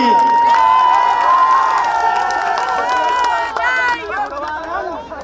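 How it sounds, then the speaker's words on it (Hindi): A large outdoor crowd at a Rangotsav cultural festival cheers and claps, with loud shouting voices and ringing tones over a dense layer of applause that eases slightly toward the end. "एक बार ताली और बजा दो हमारे योगी जी के लिए"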